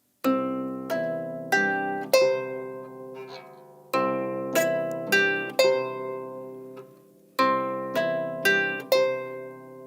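Plucked harp strings ringing in repeated ascending patterns of notes, a finger exercise played with both hands in three clear runs with short pauses between them, bright and resonant.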